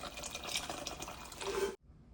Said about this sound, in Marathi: गरम पाणी घालूया.